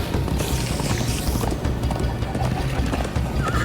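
Hooves clip-clop steadily as a horse gallops in the video game Minecraft Story Mode, a dense rhythmic pounding that runs the whole time over a low rumbling score, with no voices.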